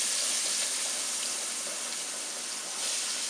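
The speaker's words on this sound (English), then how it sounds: "I'm going to drop the onions in there." Chopped onions hit hot oil that was already used for chicken nuggets, giving a soft, continuous sizzling hiss up close that stays steady and fairly quiet, with no voices.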